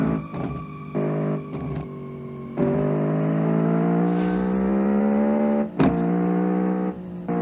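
A rear-engined V8 hatchback in the racing game Automation drives along, its engine tone climbing steadily through shifts with brief drops and clicks, heard clearly without talk.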